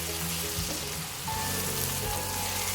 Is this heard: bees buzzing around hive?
no